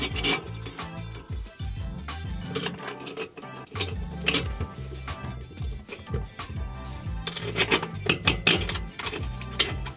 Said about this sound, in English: I'm gonna put all the screws in just like this.